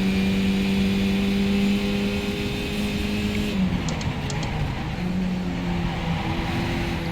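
Race car engine droning in a sim racing game at Okayama, a loud steady tone that drops and shifts midway as the car slows and accelerates again, with faint tire noise.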